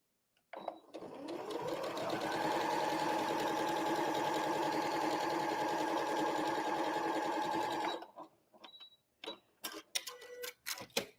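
A sewing machine stitches quilt seams in one steady, loud, continuous run of rapid mechanical ticking, then stops. Brief handling clatter and small taps follow.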